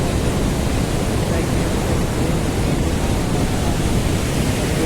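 A large waterfall pours from the brimming Khorninko dam at Lanja in Ratnagiri, a dense, steady roar of rushing water filling the whole clip without a break.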